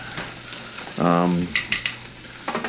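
Onions caramelizing in a hot pan give a steady close sizzle, with a brief voiced burst in the middle and a few light crackles and pops toward the end.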